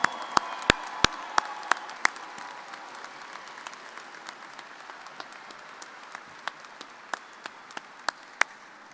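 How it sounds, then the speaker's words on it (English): A graduating class at a spring commencement ceremony is applauded by a fairly faint crowd, with a few sharp, separate claps standing out near the start and again toward the end. "Let's give them a big round of applause."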